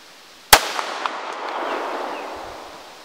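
A single sharp handgun shot, from a CZ 75 or Glock 19 fired at a target 100 yards away outdoors, cracks loudly and then rolls off into a long, fading echo.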